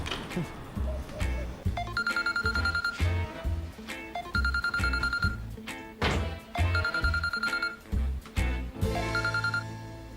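A telephone rings in repeated bursts of bright, trilling bell tones, starting and stopping in a steady pattern, loud and close with no talking.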